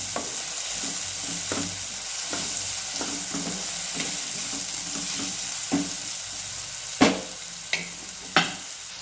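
Spices including turmeric, coriander powder and asafoetida roast and sizzle in a pan under steady stirring, a continuous crackling hiss with regular scraping strokes and a few sharper knocks of the spoon near the end, close and with no talking.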